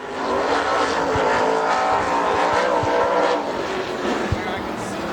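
A race car roars through turns 3 and 4 during qualifying at Dixie Speedway, its engine loud and sustained as it accelerates, while an announcer talks over it.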